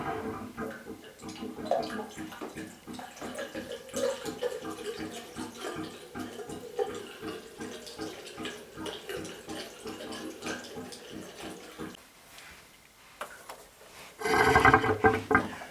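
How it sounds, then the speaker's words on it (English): Water gushes and splashes steadily from the air gap outlet of a Heatrae Sadia Megaflo unvented hot water cylinder, a continuous rushing flow that briefly dies down before a louder surge near the end. "So it ejects the water from the air gap"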